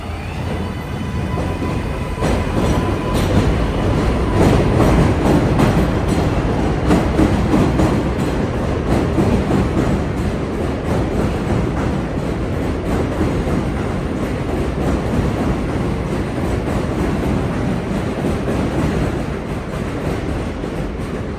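A New York subway train rumbling past near 74th St–Roosevelt Ave in Jackson Heights, Queens, a loud sustained roar with rhythmic wheel clatter lasting the whole stretch.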